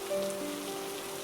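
Steady rain patters on a surface for a moment, a soft even wash with a low tonal hum beneath and no voices.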